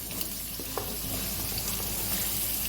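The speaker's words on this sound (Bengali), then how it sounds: "আলুটা ভাজা হয়ে গেছে, এর মধ্যে দিয়ে দেবো কুমড়োটা।" Long-cut potatoes fry in a pan with pumpkin about to be added, giving a constant close sizzle with a few soft stirring taps, no speech.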